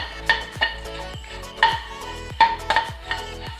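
Dried prawns stirred and fried in a pan for a Kerala-style dry prawn chutney, with a spoon clattering and scraping against the metal in quick irregular bursts over a faint background hum.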